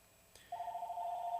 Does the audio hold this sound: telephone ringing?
yes